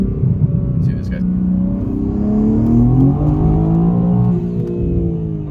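A 2023 BMW M4 G82 with a JB4 tune pulls hard through second gear, its engine note climbing steadily in a loud, continuous rising drone heard from inside the car over road rumble.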